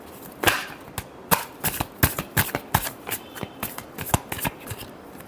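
Tarot cards being shuffled by hand: a run of crisp, papery riffles and slaps in an uneven rhythm, close and fairly loud, with no voice over them.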